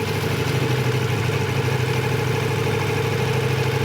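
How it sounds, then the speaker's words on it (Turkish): A motorcycle engine idles steadily with no throttle during slow-speed maneuvering practice, a constant low, even throb held at the same pitch throughout. "Motor rölantide gaz vermiyorum farkındaysan."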